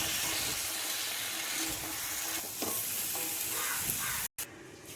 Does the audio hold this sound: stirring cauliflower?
yes